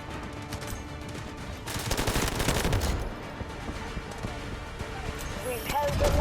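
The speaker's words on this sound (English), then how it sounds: "Artillery barrage ready." A video game artillery barrage: dense bursts of gunfire and booming impacts pile up into a loud rattling cluster midway, with scattered shots and battle noise before and after and game voices mixed in.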